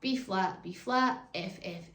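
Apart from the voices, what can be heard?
No distinct noise like a dog, phone or traffic.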